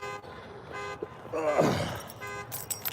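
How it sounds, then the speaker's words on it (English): A car alarm goes off after a key fob button is pressed by accident at a lakeside fishing spot, giving short repeated tonal chirps and honks over faint background noise. "That's just my alarm."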